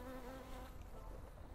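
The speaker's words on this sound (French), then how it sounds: "Oh l'abeille, elle est en train de se régaler frère." Bee buzzing close by over a kebab in Liège, a steady droning hum with a wavering pitch, fairly faint and continuous with no talk.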